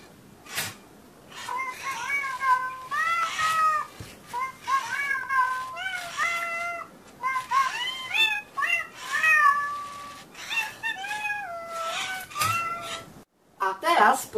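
A programmed cartoon cat in a children's coding program meows repeatedly in a clear, close, melodic series of electronic cat calls, with short pauses between them and a brief silence near the end.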